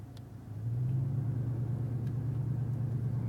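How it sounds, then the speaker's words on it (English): A truck engine pulls away in second gear through soft desert sand, its low steady rumble rising after a half-second and then holding, loud and close. "Starting in soft sand. This truck had no fucking problem starting up."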